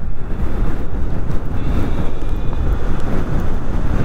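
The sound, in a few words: strong wind while riding an electric scooter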